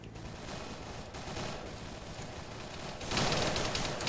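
Gunfire crackles in the Arma 3 video game during a Vietnam-era battle, with dense overlapping bursts that swell louder toward the end.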